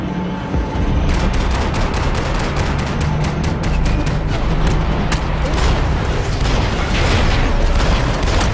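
Dense bursts of gunfire in the video game Max Payne 3: a loud, continuous barrage of rapid shots and impacts runs almost throughout, with repeated sharp cracks over a rumbling, busy backdrop.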